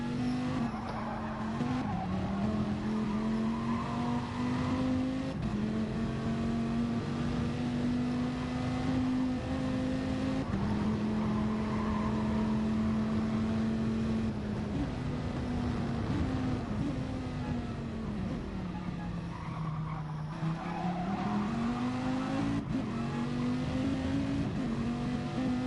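A race car in Gran Turismo Sport lapping the circuit, its engine droning steadily close up and rising and falling in pitch through gear changes and corners, with occasional tyre noise and no talk over it.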